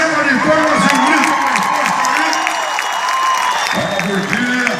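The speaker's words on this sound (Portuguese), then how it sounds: "Quem gostou, dá uma salva de palmas e grita" A live audience claps and cheers loudly, dense sustained applause with shouts and whistles mixed in, near and continuous throughout.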